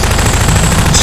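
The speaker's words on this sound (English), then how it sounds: "Stop shooting!" Rapid automatic gunfire from a Garry's Mod video game, loud and sustained bursts filling the whole second with no talk.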